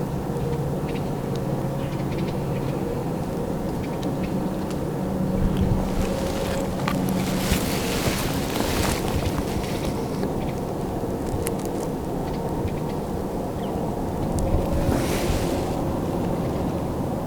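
Easterly wind blows across open whitetail country, a constant broad rush with gusts buffeting the microphone, rising in a few stronger bursts along the way.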